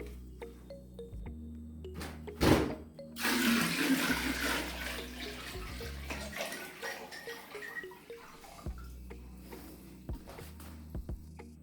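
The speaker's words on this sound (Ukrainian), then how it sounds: "Вливаємо 36 літрів води." Hot water pours into a container for a sugar mash, a surging splashy gush that swells after a sharp knock and then tapers off, with scattered clunks and a low hum.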